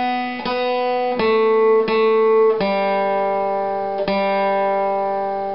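Acoustic guitar flatpicked note by note, the last phrase of the bluegrass tune Bile Them Cabbage Down, six or so clear plucked notes ringing close and alone with no talk.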